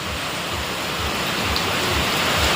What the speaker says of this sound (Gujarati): વરસાદ પડે જોરદાર આ રોડમાં જ પાણી